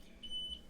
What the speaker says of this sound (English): Excuse the beeping